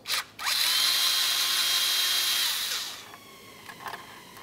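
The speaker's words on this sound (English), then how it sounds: "We'll do that by removing two T25 headed mounting bolts." Power driver spinning out T25 mounting bolts on a 1994-2002 Dodge Ram 2500 transmission, a close, high-pitched whir lasting about two and a half seconds, then winding down, followed by faint clicks.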